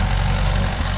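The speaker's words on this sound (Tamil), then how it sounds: "இந்த உழவு ஓட்டும் போது தான் இன்ஜின் ரொம்ப உட்காருது." A Mahindra 415 DI tractor engine labors while pulling a 36-blade rotavator through farmland, a loud, steady low diesel drone with no talk.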